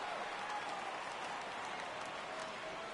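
A stadium crowd in a PS4 baseball game rises into sustained cheering and clapping on a full count, a steady distant roar with no commentary over it.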